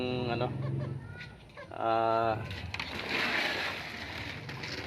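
Chickens cluck and call in short bursts inside a small poultry house, amid a busy, noisy background, with someone talking nearby.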